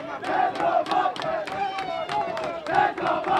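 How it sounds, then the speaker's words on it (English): Crowd cheering and shouting at a girls' high school soccer game, with rhythmic bursts of yelling and chanting rising and falling throughout, loud and close around the listener. "crowd willing on the Boxers, trying to will them enough energy to send the equalizer"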